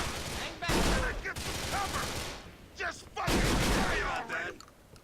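In the GTA video game, a full-auto shotgun with a small drum fires in loud, rapid blasts in two main bursts with scattered shots between, while someone talks over the gunfire.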